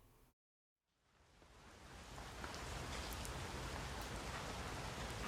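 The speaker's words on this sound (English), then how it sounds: "Looks like the rain's coming down." Steady rain falls in a video game, rising out of a brief silence into a continuous, even hiss of drops that holds at a moderate level to the end.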